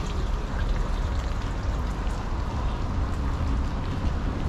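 Rain pours steadily onto the empty streets of old Mardin, a dense, even hiss with a low rumble and no break across the whole stretch.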